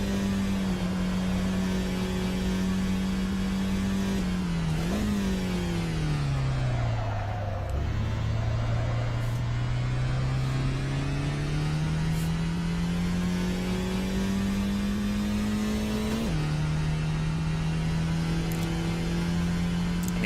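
A Geo Metro car engine in the video game Assetto Corsa: a steady droning hum that drops in pitch as it downshifts, then slowly climbs while revving, with further gear changes, close and continuous.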